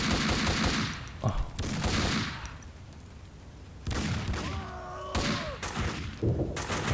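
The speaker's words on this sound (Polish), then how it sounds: "O, Mona się strzela." Gunfire in the video game Max Payne 2 during an attack on Vlad: loud bursts of shots and heavy thuds come in several bunches, with quieter gaps between them.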